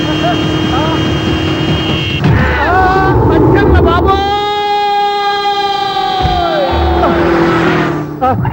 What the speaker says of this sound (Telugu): సైరన్నే కొట్టాడు